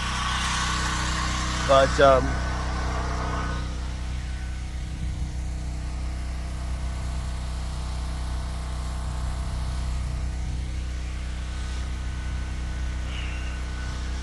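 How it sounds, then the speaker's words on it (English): A loud generator runs on a farm in the Philippines beside a freshly drilled deep well, its steady low mechanical drone close and continuous throughout, with brief talking near the start. "I kind of have a loud generator going right now"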